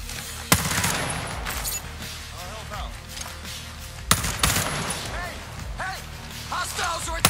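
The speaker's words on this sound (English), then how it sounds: "Gunshots! Hostiles are attacking!" Bursts of rapid gunfire crack out in a game, with sharp impacts and echoing shots, while people talk over the action.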